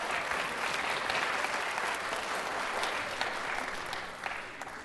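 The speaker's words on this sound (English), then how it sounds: "Give them a round of applause." At a children's theatre performance, a crowd applauds warmly and continuously for several seconds, a full, even roar of clapping that tapers slightly at the end.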